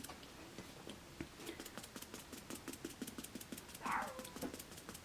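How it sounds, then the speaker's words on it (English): A dog barks outdoors, heard faintly and muffled from indoors as a series of quick, repeated yaps under a low background hum. "the dog is barking outside"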